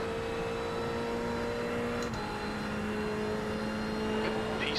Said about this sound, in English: There's a car leaving the pits.